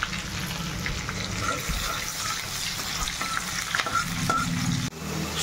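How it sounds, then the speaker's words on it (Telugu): Green chillies and cumin seeds fry in hot oil in a pan, giving a steady, close sizzle throughout with small crackles and a few stirring clatters near the end. "ఇప్పుడు పచ్చిమిర్చి వేద్దాం, కొంచెం కొద్దిగా జీలకర్ర వేద్దాం."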